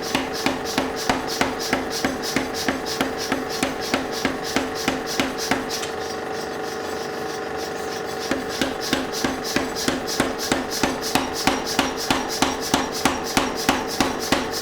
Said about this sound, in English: I start forging the rough shape of the drift